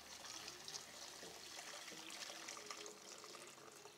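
Hot water poured into a cooking pot of Algerian tikarbabine with meat, a steady soft trickling pour running evenly throughout at low volume.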